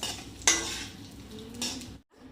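Sliced almonds, raisins, charoli, cashew pieces and cardamom stirred in ghee in a kadai: a sharp metallic clink of a spoon, then scraping and a faint sizzle. A second stroke follows before a brief drop to near silence.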